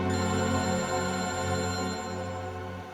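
A telephone rings in a TV crime drama scene, a steady electronic ringtone that holds for about three seconds at an even, moderate level, with no talking over it.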